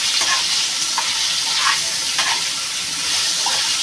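Potatoes fry in a pan for a Bengali fish curry with pumpkin greens, a loud, steady, close sizzle with a few faint stirring scrapes and no talking.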